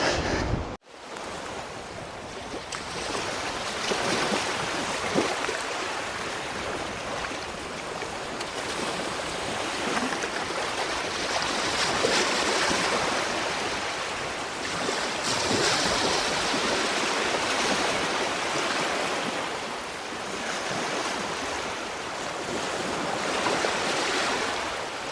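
Surf washes steadily onto Silverstrand Beach, a continuous broadband roar of breaking waves with gentle swells in intensity, mixed with wind buffeting the microphone and no voices.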